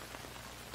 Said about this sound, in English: the rain's pouring right now